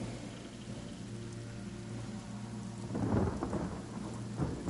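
Steady rain hisses throughout a downpour summoned by a spell in the video game Divinity: Original Sin, with a deep rumble of thunder swelling near the end and a second roll just before the close.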